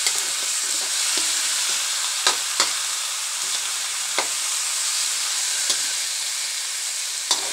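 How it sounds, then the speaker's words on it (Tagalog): Salmon fish head sautéing in a pan for sinigang, a steady close sizzle and frying hiss with occasional sharp stir or spatter clicks across the whole stretch. "Ginigisa ko siya guys para hindi siya malansa."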